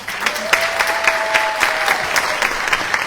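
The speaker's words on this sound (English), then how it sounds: "Ladies and gentlemen, please give Patrick Foley a round of applause." Audience applause at a memorial gathering, steady clapping from a moderately sized room with individual claps audible in the mix and a faint tone running underneath, continuing throughout.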